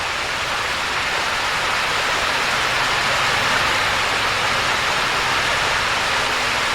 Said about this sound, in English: All the little water descending down.